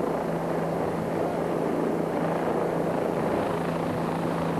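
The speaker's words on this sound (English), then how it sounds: "At all times, while he has people or parts slung underneath the helicopter, Dion leans out of the cockpit and watches the load below." A helicopter hovers near high-voltage power lines and steel pylons during line maintenance in South Africa, giving a steady, loud rotor and engine drone with a constant low hum throughout and no speech.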